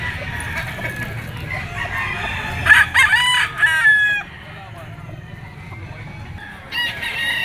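A yellow-legged banderado bull stag gamecock of sweater Kelso bloodline crows loudly at a Grotto pet market, with clucking fowl and a low crowd murmur underneath.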